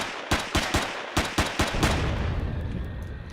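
Gunfire aimed at a turret in an abandoned mine in Empyrion: about eight sharp, loud shots in a quick, uneven burst, followed by a lingering low rumble and debris-like noise as the firing stops.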